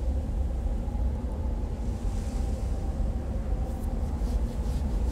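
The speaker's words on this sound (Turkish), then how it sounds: "Bu büyük bir fırtına herhalde. Bütün her yeri kapsıyor." Storm in the space exploration game Astroneer, a steady, loud low roar and rumble of wind blanketing everything, with faint hissing gusts above and no talking.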